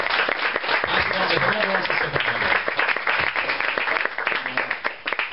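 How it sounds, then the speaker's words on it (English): An audience gives a round of applause at a live skeptics' talk, loud, dense clapping filling the whole stretch with scattered cheers and voices mixed in. "Everyone give us a round of applause."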